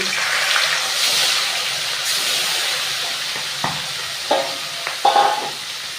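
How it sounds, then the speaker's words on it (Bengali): Rohu fish fry in a pan with a soft, even sizzle, while a few clinks and taps of a spatula or utensil land near the end. "এবারে বাকি মাছগুলো আমি ভেজে নেব"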